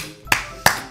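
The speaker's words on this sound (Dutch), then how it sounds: "Applaus." Two sharp claps about a third of a second apart, close and clear over a quiet background, sounding as a short applause in a Minecraft Death Runner game.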